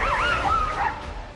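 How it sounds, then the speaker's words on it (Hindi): A pet dog in Delhi gives a nearby, high-pitched yelping whine with a wavering pitch, loud and continuous over a low rumble of background noise. "ये दिल्ली के बहुत बड़े अफसर आईएएस संजीव खिरवार का पालतू कुत्ता है"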